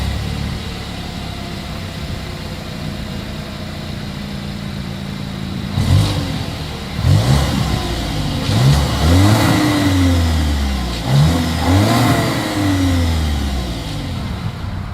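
A Volkswagen Tiguan engine idles evenly, then is repeatedly revved through its exhaust in quick, strong throttle blips that climb and drop back, several in a row, close and loud, with no speech.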